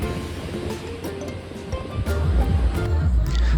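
Sea waves wash continuously onto the shore near Malvan in the evening, a close, loud, rumbling surf with gusty wind noise on the microphone.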